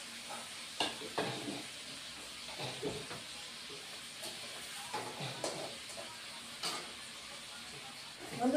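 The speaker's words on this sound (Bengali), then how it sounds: "এখন বন্ধুরা পনিরগুলি দিয়ে দেবো, একবারে দিব না।" Paneer pieces fry in hot oil in a pan, a continuous soft sizzle broken by scraping stirs and clinks of a spatula at irregular intervals, close and fairly quiet.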